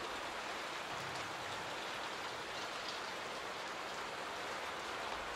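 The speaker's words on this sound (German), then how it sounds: "Warum regnet das jetzt" Soft, even rainfall patters continuously in the Layers of Fear horror game, a faint, distant wash of drops with no speech.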